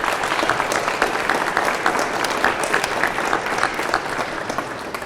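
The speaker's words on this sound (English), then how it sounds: "Can we give them a big, big round of applause?" A large audience applauds volunteers and public employees at a Philadelphia Marathon race weekend kickoff event, a steady, dense wash of many hands clapping that holds strong throughout without a break.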